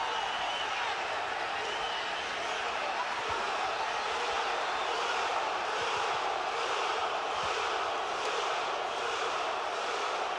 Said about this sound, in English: Crowd trying to urge Morales on.